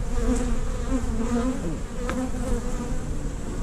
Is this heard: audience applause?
no